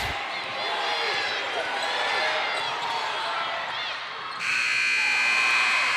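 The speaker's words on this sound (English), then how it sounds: "Shot won't go at the buzzer for Landon Clare." A loud electronic buzzer blares near the end of a high school boys' state quarterfinal basketball game as a last shot misses, over a cheering crowd and an excited commentator, with shoe squeaks before it.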